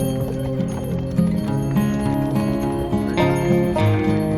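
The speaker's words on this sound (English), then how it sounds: "The road is really icy right now, so they have to make the horses go extra fast so they don't slip." Horses pull a carriage fast along an icy road near Garmisch-Partenkirchen, Germany, with quick rhythmic hoof clops, jingling tones and a steady rolling rumble, loud and close.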